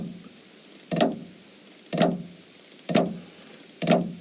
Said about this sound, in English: The left side drag will sound like this, from slow to fast.